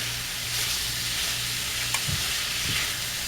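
Chicken and rice cook in an oiled pan with a steady, close sizzle that holds even and loud throughout, with a few faint stirring scrapes.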